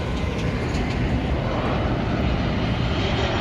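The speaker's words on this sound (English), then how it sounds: "Planes fly so low everywhere here" A low-flying airplane passes over Los Angeles, a loud, steady broadband engine roar that fills the whole stretch with no voices.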